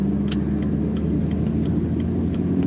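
Car driving along a road, a steady close rumble of engine and tire noise filling the short stretch without talk.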